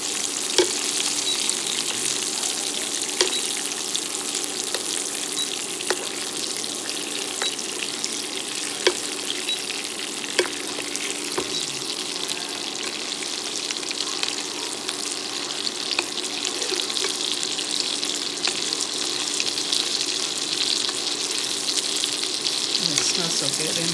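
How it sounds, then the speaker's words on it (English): Garlic sizzles steadily in a hot pan, a continuous close frying hiss with a few sharp clicks and pops, as keto dinner meal prep cooks alongside salmon. "Okay, I added the garlic to the pan."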